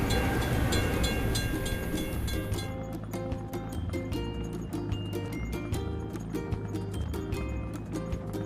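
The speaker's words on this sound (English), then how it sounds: "We have to wait for the train to pass." A train rumbles past a closed crossing gate in a children's car-toy puzzle game, with bright chiming game music and rhythmic clacking that stays moderately loud throughout.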